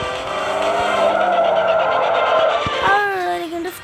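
Car drifting in a simulator video game, engine whine and screeching tire skid sustained for several seconds, close and loud, with the squeal bending downward as the slide ends.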